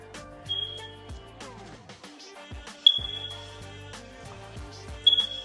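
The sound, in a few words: house alarm beeping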